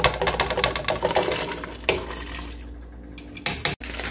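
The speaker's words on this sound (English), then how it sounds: "I'm going to go ahead and carefully pour these vegetables into the" Chopped scrap vegetables are poured into a pot of minestrone soup, giving a close burst of splashing, rattling clatter that fades and then returns briefly near the end.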